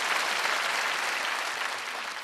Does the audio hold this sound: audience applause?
yes